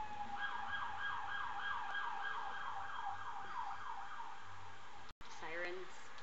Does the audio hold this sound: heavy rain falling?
no